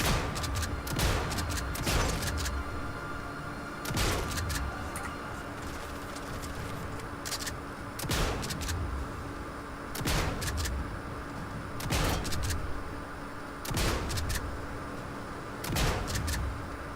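Gunfire in the video game Sniper Elite 5: loud, sharp shots land roughly every two seconds in a steady rhythm over a constant background ambience, with no talk.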